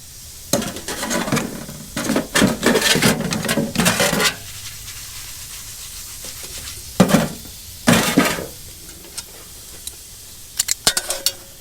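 Metal cooking pot clanking and scraping onto a hot tent stove during a camping trip, several sharp knocks and rattles in bursts, close and fairly loud, separated by quiet gaps.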